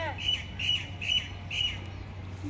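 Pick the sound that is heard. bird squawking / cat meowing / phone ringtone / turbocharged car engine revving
bird squawking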